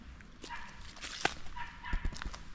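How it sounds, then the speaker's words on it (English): Dogs yip, whimper and bark in short bursts, fairly close over a noisy outdoor background in a seaside city, with no clear speech. "the dogs wants to participate in the vlog"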